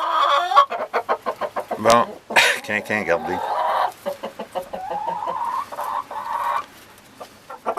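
Hens and a newly introduced rooster cluck repeatedly in a farmyard flock, with short bursts of clucking and squawks close by, while someone speaks briefly in French.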